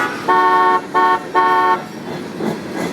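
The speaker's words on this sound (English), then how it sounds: "Check out that horn, baby" Norfolk Southern locomotive horn blowing three loud blasts, two long and one short, fairly close, then fading into rumbling background noise.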